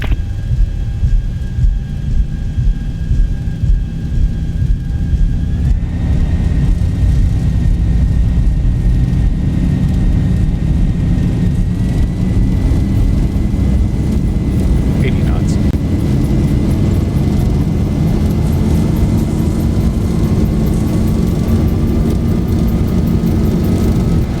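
A jet airliner's engines in Microsoft Flight Simulator roar steadily and loudly through the takeoff run, with a thin whine climbing in pitch as they spool up over the whole stretch.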